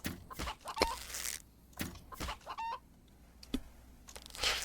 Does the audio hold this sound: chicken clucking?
yes